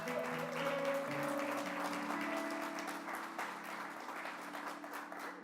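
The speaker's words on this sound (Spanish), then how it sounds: "Démosle un aplauso." A church congregation applauds with dense, steady clapping while a sustained organ-like tone holds underneath, the applause gradually thinning toward the end.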